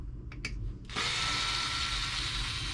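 A power tool unbolts the body from the back of an RC car, starting with a few short ratcheting bursts and then settling into one steady, close whir.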